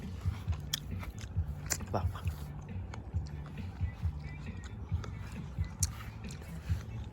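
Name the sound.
biting and chewing a crunchy fruit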